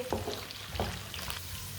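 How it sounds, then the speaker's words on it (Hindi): Green peas frying gently in a pan over a low flame, a quiet, soft sizzle with a couple of light stirring knocks near the start. "मटर को भी 2 मिनट के लिए मैंने फ्राई कर लिया है। हल्की सी आंच पर फ्राई करना है इसे"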